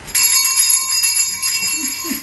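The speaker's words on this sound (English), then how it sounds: "What I wanted more than anything was one silver bell from Santa's sleigh." A silver sleigh bell rings with a bright, sustained metallic jingle that starts sharply and shimmers steadily, loud and close with no talk over it.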